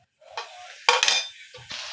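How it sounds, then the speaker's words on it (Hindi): Finely chopped medium onions hitting hot oil in a karahi, with short bursts of sizzling and metal-on-metal stirring scrapes, close and fairly loud, no talking. "इसमें हमने डालना है तकरीबन 2 प्याज बारीक कटे हुए मीडियम साइज़ के, और इसको हम हल्का सा फ्राई कर लेंगे"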